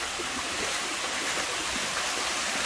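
A river waterfall in Thailand roars steadily as a broad, continuous wash of falling water, loud and close with no breaks.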